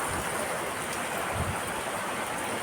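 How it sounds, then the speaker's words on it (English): Steady broadband hiss of rain falling outdoors, continuous and fairly loud throughout with no voices. "Look at the rain."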